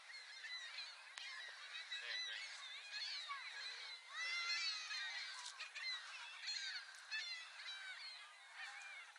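A flock of seagulls calls at a distance with overlapping, honking cries in a busy, continuous chorus. It stays faint throughout.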